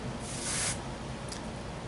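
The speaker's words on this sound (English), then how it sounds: "You take a can of compressed air, and you hold it upside down, and you spray it under and on the Mylar." A can of compressed air held upside down hisses in a short spray onto Mylar during pinball repair, then gives a second, briefer faint puff.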